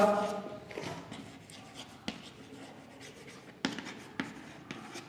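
Pen or chalk writing during an English grammar lesson, with scratchy strokes and a few sharp taps against a quiet room background, close and fairly faint.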